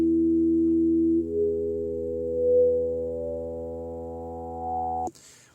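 Steady synthesizer tone holding for several seconds, its pitch gliding upward midway with a slow phasing sweep before cutting off abruptly.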